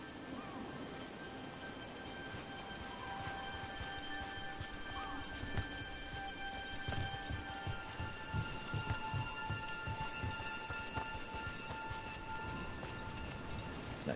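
Steady rain falls in a video game scene from Dragon Age: The Veilguard, a constant faint hiss of drops with scattered patters and soft low thumps throughout, no voices.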